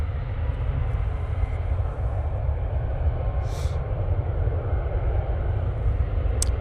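A Ryanair Boeing 737 MAX 8 departs Manchester Airport for Prague, its jet engines a steady, distant, low broadband roar that holds level throughout.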